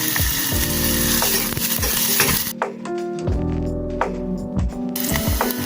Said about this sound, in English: You already frying the onions, your dhania, Spanish paprika, turmeric, and garlic powder, and tomato puree.